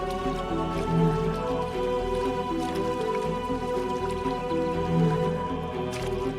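Water drips and splashes steadily while an object is washed by hand, with wet squishing close by and a continuous tonal background layer underneath.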